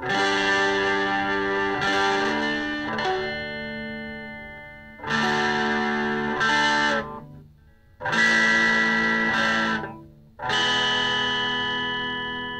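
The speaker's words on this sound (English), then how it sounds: "So it adds a little bit of distortion, it seems" Overdriven electric guitar through a mini guitar amp, played in several loud, sustained bursts with short gaps between them, gritty and distorted with a slight echo tail.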